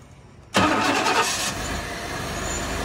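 A 1992 Chevy Caprice Classic cranks and fires abruptly after a brief quiet moment, roaring loudly up close before settling into a steadier running rumble.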